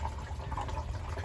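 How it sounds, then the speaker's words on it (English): Pond water drains back into a koi pond being shut down for winter, a steady close gurgling and trickling wash that runs continuously without pause. "you should be able to hear when it finally drains back to the pond, all the water"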